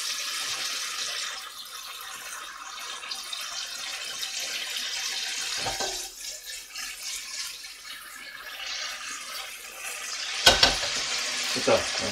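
Chunjang black bean paste sizzles in a hot pan for homemade jajangmyeon, a steady hiss of frying broken by a few sharp clatters of stirring against the pan.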